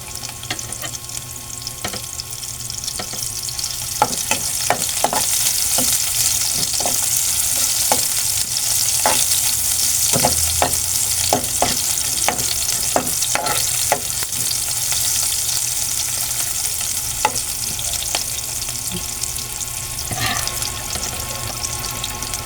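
Chopped onion sizzles in hot oil for ginisang sayote, a steady bright frying hiss broken by repeated clinks and scrapes of a spatula stirring the pan, with no talking.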